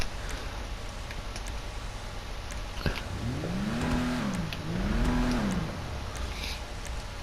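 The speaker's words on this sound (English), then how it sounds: "Stock exhaust." A car engine with a stock exhaust revs up and back down twice in smooth swells over a steady background hum, moderately loud, with no speech.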